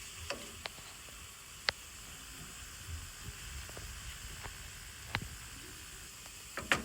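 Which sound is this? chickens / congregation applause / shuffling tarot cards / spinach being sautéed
spinach being sautéed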